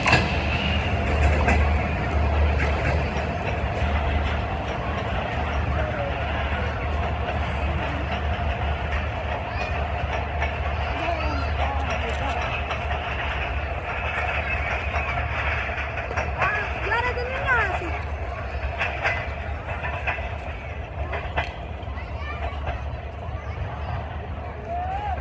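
The Karakoram Express rolls past Badami Bagh station in Lahore with a steady rumble and rhythmic clatter of wheels, heard under someone talking.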